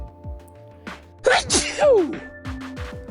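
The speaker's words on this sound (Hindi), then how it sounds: "इसे इंग्लिश में स्नीज कहते हैं और हिंदी में छींक कहते हैं।" A single human sneeze stands out in the middle, loud and close, set against soft background music with a gentle tune.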